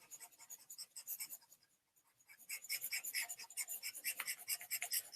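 A board being erased, steady rapid scrubbing strokes that pause briefly then resume louder and denser, close and alone with no speech.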